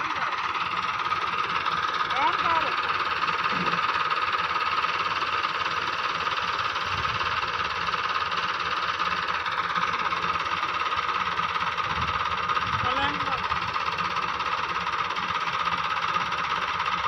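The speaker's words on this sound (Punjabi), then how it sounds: "385 ਟਰੈਕਟਰ ਜਿਹੜਾ ਸ਼ਹਿਜ਼ਾਦਾ ਟਰੈਕਟਰ ਆ ਜੀ" A Shehzada 385 tractor engine running on a farm, a continuous rough mid-range drone with a knocking texture that holds steady throughout, with faint voices now and then.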